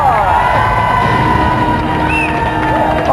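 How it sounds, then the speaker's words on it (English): A loud, dense television studio audience roars and cheers continuously, with scattered whoops rising above the steady wash of noise. "Round of applause then, Andy Townsend, Casey Keller."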